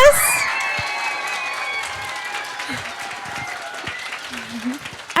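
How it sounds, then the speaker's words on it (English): After a school history performance, the audience bursts into steady applause that starts loud and fades gradually, with brief voices and cheers mixed in at the end. "Let's give them all another round of applause."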